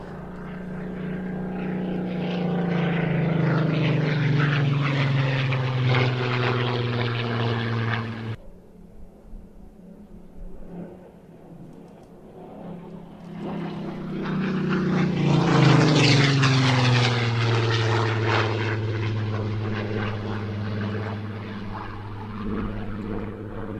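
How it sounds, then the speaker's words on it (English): A Spitfire 18 propeller warplane roars past loudly during a flying display, its engine note falling away to a distant drone, then swelling again as it makes another close, loud pass. "Spitfire 18 has just begun the display for just a few minutes"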